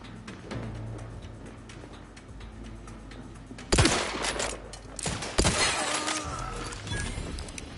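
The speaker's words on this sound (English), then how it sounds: "I shouldn't have started shooting." Gunfire in The Outer Worlds 2 erupts in a loud burst of shots with breaking, shattering impacts, following a quieter stretch of steady game ambience and trailing off into scattered cracks.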